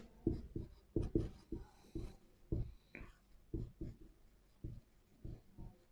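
Marker or pen strokes writing on a board or paper during a chemistry lesson, coming as a series of short, distinct scratchy taps and swipes at an uneven pace, close and fairly quiet.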